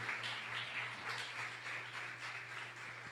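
Church congregation applauding during a baptism service, faint and distant, with soft rhythmic clapping that keeps a steady pulse for a few seconds over a low background hum.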